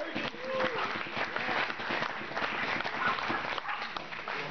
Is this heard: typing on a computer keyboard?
no